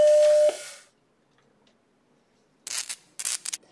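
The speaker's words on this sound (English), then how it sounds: "Now let me demonstrate what the eject sound sounds like" A serviced Sony floppy drive in a Mac Plus ejects a disk: a brief tone and whirr, then silence, then a few sharp mechanical clicks and a snap near the end, close up and alone.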